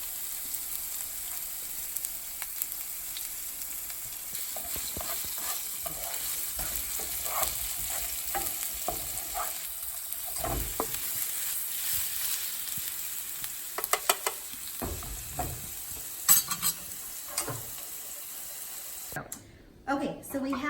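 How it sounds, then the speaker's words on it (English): Chopped onion sizzles in a skillet over a steady low frying hiss, with occasional stirring clatter and scrapes, while a person talks at times. "We're going to get all that into our pan as well and get that sizzling."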